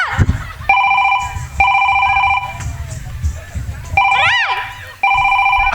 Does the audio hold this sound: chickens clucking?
no